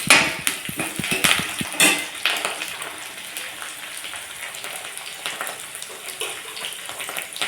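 Ponnaganti greens boiling in a pot for a village-style leafy curry: a steady fizzing, bubbling hiss with irregular pops and soft ticks, close and fairly loud at first, then settling into a quieter continuous simmer.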